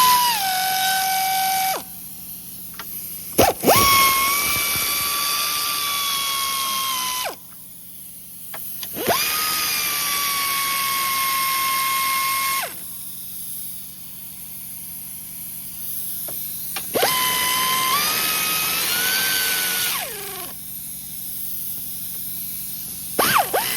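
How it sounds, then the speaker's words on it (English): Air impact tool with extension and deep socket spinning off 14mm front strut nuts on a 2007-2014 Honda CR-V, several loud sustained whirring runs with pitch shifts, separated by brief gaps. "I've got a bit of an extension on to a deep socket, and let's just get those loosened off."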